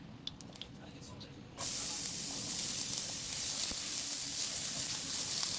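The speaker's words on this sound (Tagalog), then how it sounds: "Maligisan naman tayo ng bawang." Garlic hits a hot pan for spaghetti sauce and erupts into a loud, steady hiss that runs unbroken to the end, after a quieter opening with a few faint clicks and light talk.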